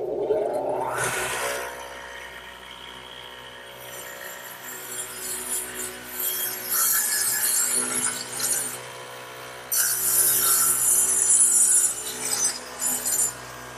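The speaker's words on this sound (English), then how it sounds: "the radial arm is set up with a dado head, which is just two blades at an angle to one another, so they plow out material" A radial arm saw fitted with a dado head of two angled blades plows through wood: a sharp rising whine at the start, then a sustained whirring cut that swells in bursts, loud and close, with no talking.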